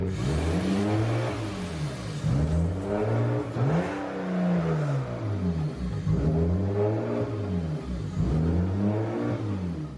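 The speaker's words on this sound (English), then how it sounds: "you guys saw it runs kind of rough right now" A BMW E36 drift car engine idling rough and being revved repeatedly, its loud note surging up and dropping back in uneven, lumpy cycles, close by and with no talking.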